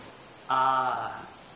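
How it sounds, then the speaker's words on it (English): Late summer crickets chirping in a meadow, a single short buzzing trill rising clearly over faint steady background insect hum. "The late summer crickets going in the meadows were music to my ears."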